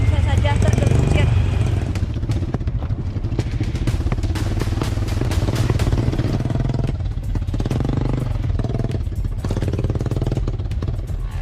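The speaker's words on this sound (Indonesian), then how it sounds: "Jalanan tanah yang licin dan rusak parah membuat ban depan motor yang kami tumpangi beberapa kali tergelincir" A motorcycle rides over a slippery, badly damaged red dirt road in a remote village. Its mid-pitched engine drones loud and close, with rattles and clatter over the bumps.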